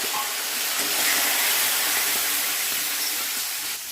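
Chana dal and soaked peas hiss and sizzle in a hot pan of oil, a steady broadband crackle that runs close and fairly loud for the whole stretch without a break.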